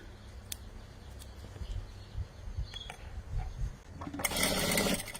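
A sewing machine stitching plain fabric scraps gives a short, dense mechanical whir near the end, after soft handling noises and light taps.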